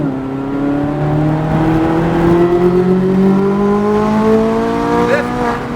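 A C8 Corvette Z06 on the Nashville Superspeedway track at full throttle; the engine note climbs steadily and loudly in one sustained, rising pull with no breaks.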